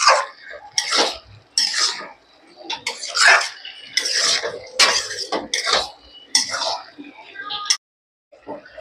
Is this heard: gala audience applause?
no